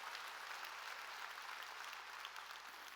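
Steady applause from a church congregation, broad and continuous for a few seconds with no voices on top.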